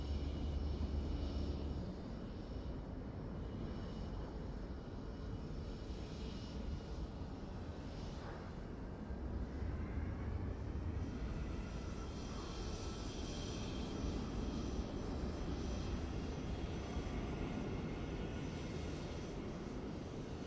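Boeing 737 MAX 8 engines in Microsoft Flight Simulator 2024, an iFly model in Norwegian livery, make a steady, loud cabin-level drone with a broad roar and faint high whine that continues unbroken throughout.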